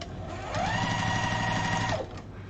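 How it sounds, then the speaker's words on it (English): A sewing machine stitches quilt pieces made of small squares in a steady, fast mechanical whir. It runs continuously for about a second and a half, then slows and stops, with no talk over it. "I'll sew this on one long side of the quilt"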